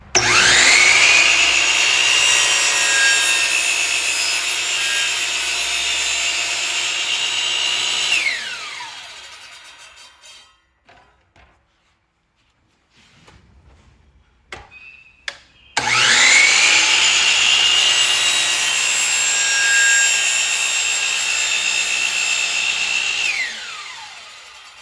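A miter saw cuts a wooden subfence in a loud, close whine that holds steady for about eight seconds and then winds down, followed by quiet handling clicks before a second equally loud cut.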